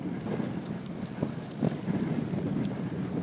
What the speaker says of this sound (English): I'm into the wind.